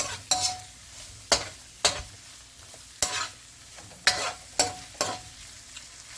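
Spoon scraping and clanking around a pot of Jamaican-style coconut curry shrimp, in a regular stirring rhythm of sharp strokes about once a second over a faint sizzle, close and moderately loud.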